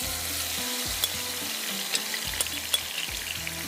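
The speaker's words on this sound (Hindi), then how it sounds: "ये मैं डाल देती हूँ यहाँ पर ऑयल के अंदर" Vegetables and spices hit hot oil for an egg and fish fry tarka in a home kitchen, giving a loud, steady close-up sizzle with spoon clatter and stirring scrapes throughout and no talking.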